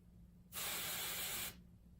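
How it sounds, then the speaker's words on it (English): Temporary root concealer sprayed from an aerosol can onto hair held against a fine-tooth comb: one steady, close, loud hiss lasting about a second, with quiet room tone before and after. "And spray."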